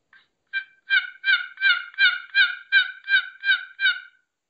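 A box call imitates a wild turkey with soft, relaxed loafing yelps: about ten even, evenly spaced raspy notes in a steady rhythm, clear and alone against silence.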